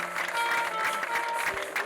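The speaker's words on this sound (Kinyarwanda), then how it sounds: "muyimpera amashyi n'impundu" A congregation at an ADEPR church prayer service claps and cheers in a brief, continuous wash of applause that stays steady and fairly loud throughout.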